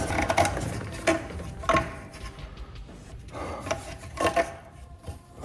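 A hose is worked free from the throttle body of a Porsche Boxster 987.1 in a tight engine bay, making close scraping and rubbing sounds with several short bumps and rustles.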